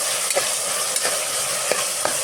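Tomatoes and kasuri methi stirred in a frying pan, with a steady hiss of frying and a few soft scrapes of the spoon at irregular intervals, close and clear with no voices.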